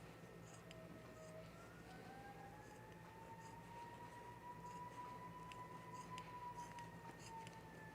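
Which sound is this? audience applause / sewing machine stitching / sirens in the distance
sirens in the distance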